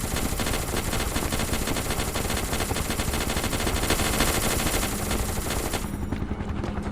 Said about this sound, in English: I just take a full-fledged Gatling gun to the chest and I'm perfectly fine.